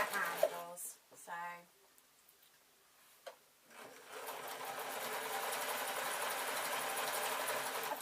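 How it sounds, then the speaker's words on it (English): A sewing machine set to a large stitch runs through two thick layers of felt for a bag, with a few short bursts and scrapes followed by a long, steady, even whirring run. "I've got the sewing machine on quite a large stitch, but it's quite thick, 2 layers of felt"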